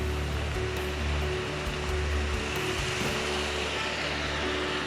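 A waterfall at Allt Robuic in Glenbranter, Scotland, roars in a loud, steady, broadband rush of falling water, close and continuous throughout with no voices.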